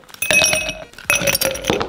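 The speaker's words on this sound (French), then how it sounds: "on commence par mettre nos glaçons dans notre verre" Ice cubes drop into a cocktail glass in two bursts, each a rattling cluster of bright clinks and chinks close up, with no talking.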